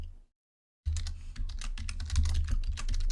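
Rapid typing on a computer keyboard while entering code in Unity, a dense run of close, crisp keystrokes following a brief silence, with a low hum underneath.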